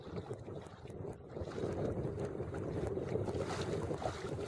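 A sailboat heels in a gust on a mild mid-October day in North Carolina, with steady wind rush and water swirling against the hull that grows louder partway through and stays close.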